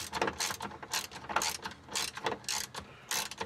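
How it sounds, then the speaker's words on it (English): A ratchet tightening a fitting during a charcoal canister replacement on a 1999 Hyundai Elantra, with quick bursts of close, crisp clicking repeated in a regular rhythm. "we're just going to tighten this one up"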